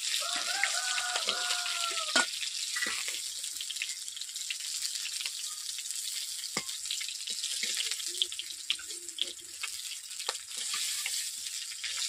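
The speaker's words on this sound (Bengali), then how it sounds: "পাঙ্গাস মাছ ভাজা হয়ে গেছে, দেখতেই তো পাচ্ছেন। আমি এক এক করে কড়াই থেকে তুলে নিচ্ছি।" Pangas fish pieces fry in oil in a kadai pan, a constant close sizzle and crackle with occasional faint clinks as pieces are lifted out, no speech.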